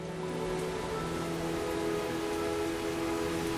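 Steady rain pours down in a dense, continuous hiss, even and moderately loud throughout with no voices.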